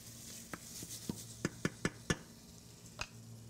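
Rice being fried and stirred in oil in a pan, with a faint low sizzle under a series of sharp spoon-on-pan clicks and scrapes, close and intermittent.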